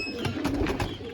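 A khaki female pigeon in a loft coos softly in a short run of low, rounded calls, close by and alone over faint background noise.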